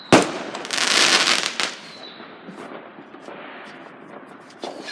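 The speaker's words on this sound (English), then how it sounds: "Fireworks!" Bonfire night fireworks burst outdoors: a loud crackling explosion swells for about a second, then trails off into scattered pops and a distant whistle, with a final bang near the end.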